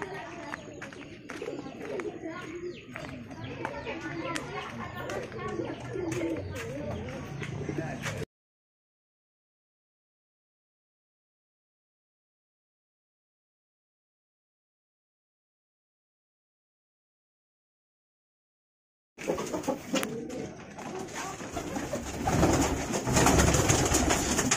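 Young pigeons, squabs being paired for breeding, coo and rustle in a cage, with steady nearby bird sounds at the start and end and a long silent gap between.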